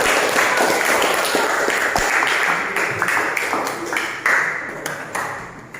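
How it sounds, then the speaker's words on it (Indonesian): Applause from a group of students and teachers at a school outdoor activity about planting mango seedlings, a dense, steady clatter of many hands close by that runs the whole time with a few sharper claps standing out. "Ya, kita beri aplaus untuk kelompok 3."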